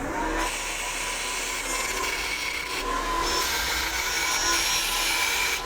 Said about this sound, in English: the best way to do this is to just chuck it up and do it on the belt grinder